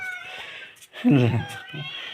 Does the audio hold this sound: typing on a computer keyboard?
no